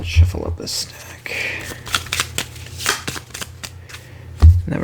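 Close, brisk shuffling of Bunny Kingdom board game cards with papery riffles and taps, interspersed with a few soft thuds; someone speaks briefly in between.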